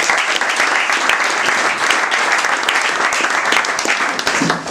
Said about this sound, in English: Can we clap hands for Jesus?